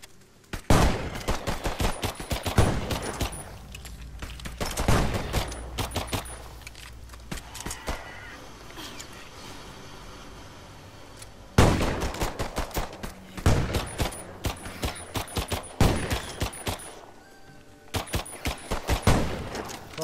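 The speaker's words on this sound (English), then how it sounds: "got some range in that shotgun" Rapid bursts of shotgun and automatic gunfire in the video game Earthfall, loud clustered volleys separated by brief lulls, with a quieter stretch in the middle before the firing resumes.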